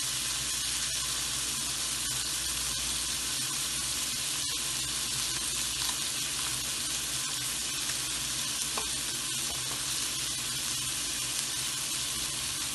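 Tomatoes and green chilies fry in a pan for a spinach and chicken curry, producing a loud, unbroken close-up sizzle with faint occasional stirring scrapes.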